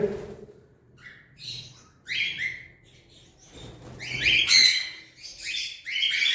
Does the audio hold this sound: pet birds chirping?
yes